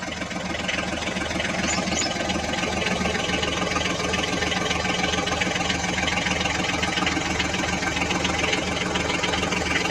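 A John Deere mini tractor engine running steadily in a muddy outdoor setting, a constant close chugging drone with a fast even pulse, no talk heard.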